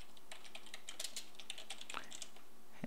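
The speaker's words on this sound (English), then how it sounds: "type Change Account Picture" Quick, light keystrokes on a computer keyboard while searching in Windows 7 settings, a close, irregular run of crisp taps with no voice.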